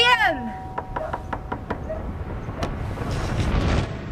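Series of sharp knocks on a door, about six quick raps in a row that then slow, fairly close and loud over a muffled indoor background, with voices in the scene.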